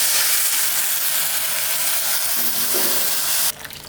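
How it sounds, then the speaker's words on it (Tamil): Half a litre of boiled milk poured onto fried poha (aval) in a hot pan for aval payasam gives a loud, broad hissing sizzle that holds steady, then cuts off abruptly near the end, with no speech. "இப்போ இந்த ஸ்டேஜில் நான் இந்த அவலில் பால் சேர்த்துக்கிறேன்."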